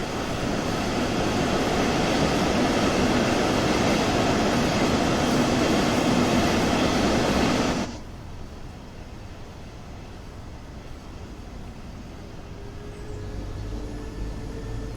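A train on the Dresden route in Train Sim World 2 rushes past with a loud, steady roar of wheels and rails that cuts off abruptly, leaving a quieter rumbling background.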